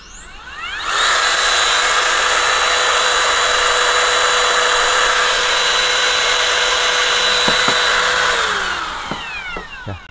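A small electric motor of a DongCheng DCMP6 cordless trimmer whines steadily at top speed, about 29,600 RPM, for several seconds, then spins down with a falling pitch near the end.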